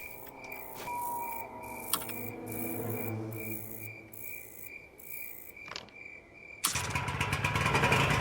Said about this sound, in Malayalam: അപ്പൊ ഗൈസ് നമ്മളങ്ങനെ ജനറേറ്റർ ഓൺ ആക്കിയിട്ടുണ്ട്.